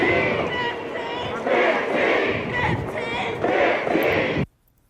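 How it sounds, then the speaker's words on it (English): A protest crowd marches through city streets, many voices yelling a number in unison in loud, surging rhythmic chants that swell and ebb for several seconds before cutting off abruptly. "Crowds yelled the girl's age as they marched through the streets."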